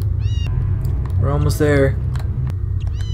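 Cat meowing inside the Harry Potter and the Philosopher's Stone video game, a few short high mews in the opening second and again near the end, over steady low game rumble with a voice talking in the middle.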